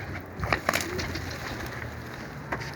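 A newly caught pigeon held before release makes a few soft coos and brief flutters near the start, then a quieter stretch with one more burst toward the end.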